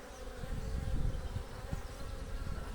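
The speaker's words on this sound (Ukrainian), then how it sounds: "Скільки бджоли собирається." Honeybees buzz close by in a busy, droning hum, several insects flying around at once.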